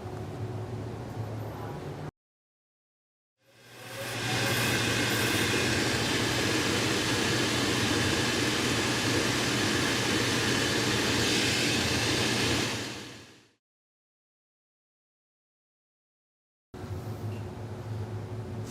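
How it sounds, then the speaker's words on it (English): A grinder thins the cork base layer of a foot orthotic in a workshop, giving a loud, steady broadband roar for about ten seconds that starts and stops abruptly, with quiet room noise before and after. "So we're going to go take it to the grinder."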